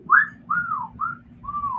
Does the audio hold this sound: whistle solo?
yes